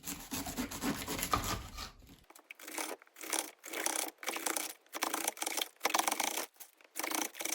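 A knife cuts thin slices of cabbage for sauerkraut, making a series of rhythmic, close crunching strokes separated by brief pauses after an initial stretch of rustling.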